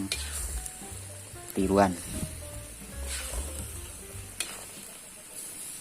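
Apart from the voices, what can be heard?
stir-frying rendang spice paste in a pan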